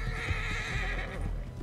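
A horse in Red Dead Redemption 2 gives a loud, close neigh over the clip-clop of hooves, the whinny sustained for over a second before trailing off amid continued hoof thuds.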